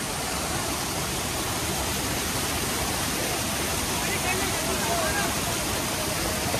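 Kewai waterfall in Kashmir roars as a steady, dense rush of falling water, loud and unbroken throughout, with no distinct voices above it.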